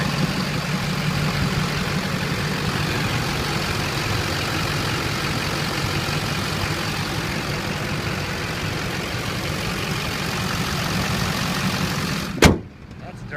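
A Duramax diesel truck engine runs quietly at idle, a steady low hum held throughout, ending with a sharp door-like thud near the end.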